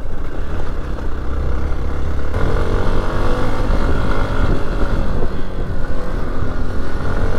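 A Hero Xpulse 200 4V motorcycle riding off-road on a hill track gives a loud, continuous engine drone that shifts in pitch as the rider works the throttle over rough ground.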